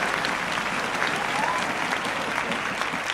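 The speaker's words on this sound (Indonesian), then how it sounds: "Aplaus untuk produk kita semuanya yang dahsyat-dahsyat." Audience applause at a corporate awards speech celebrating a Product of the Year, dense steady clapping from a crowd, loud and sustained throughout with no talk over it.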